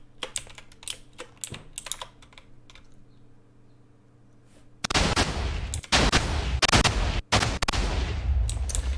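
Rapid bursts of video-game gunfire, five shots in a nuke-style game sequence, crackle loudly in the second half, preceded by quiet keyboard tapping and clicking.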